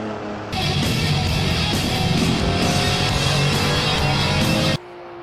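A race car engine screams at high revs, a loud, sustained roar that holds steady for several seconds before cutting off abruptly.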